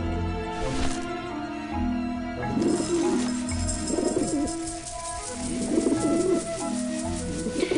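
Rooftop pigeons at a dish vent in the Grim Fandango adventure game give several soft, throaty coos in a loose rhythm, set against continuous background music and no speech.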